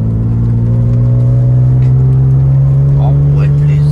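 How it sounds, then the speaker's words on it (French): A car engine under repair gently accelerates, a loud, close, steady low drone that rises only slightly in pitch, with faint voices in the background. "Là j'accélère tranquillement"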